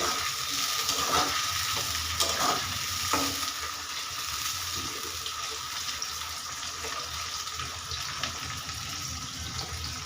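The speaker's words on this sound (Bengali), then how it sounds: "পেঁয়াজটা একটু হালকা ভাজে" Onion frying in oil with a bay leaf, a continuous close sizzle with scraping stirring strokes in the first few seconds, then steady frying alone.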